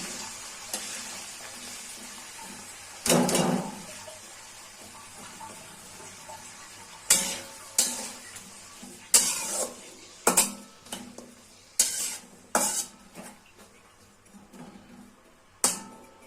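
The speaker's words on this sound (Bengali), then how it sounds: "মশলাগুলো বাঁধা হয়ে গেছে, আমি পেঁয়াজগুলো দিয়ে দিচ্ছি।" Onions being fried and stirred into bound spices in a pan for beef bhuna, with irregular bursts of sizzling and scraping stirs that rise and fade through the stretch, close by and without talk.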